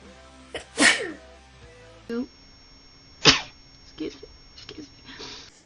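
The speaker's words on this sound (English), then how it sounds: "I'm gonna sneeze" A woman sneezes sharply twice, once near the start and again about midway, each burst loud and close, with soft breathy sounds, small vocal noises and brief talk filling the gaps between.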